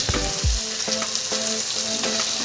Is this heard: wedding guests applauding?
no